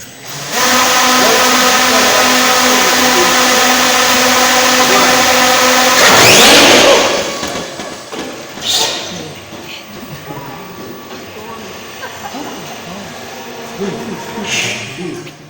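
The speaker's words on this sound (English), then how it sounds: "Spinning motors." Electric motors of a medical delivery drone spinning at a steady high whine for about six seconds, loud and close, then cutting out to quieter handling noise and faint clicks.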